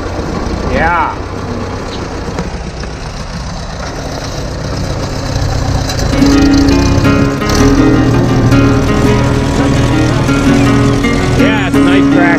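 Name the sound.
tractor engine running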